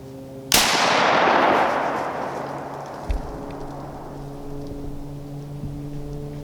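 A single loud rifle shot fired at a doe during a deer hunt outdoors, a sharp crack followed by a long rolling echo that fades over several seconds, with a faint later knock.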